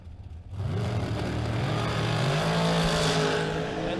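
American-chassis dragster launching down a drag strip at a spring racing event, a loud roaring engine that surges suddenly and holds a sustained, rising drone for several seconds without voices.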